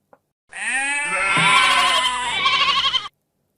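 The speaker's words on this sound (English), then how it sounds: "The sheep were quietly eating their grass." A single sheep bleats in a meadow, one long wavering call lasting about two and a half seconds, close and clear with nothing else around it.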